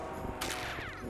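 Video game gunfire from Aliens Drive Me Crazy gives one quick, sharp burst of shots with a short crackling tail, faint under a busy background.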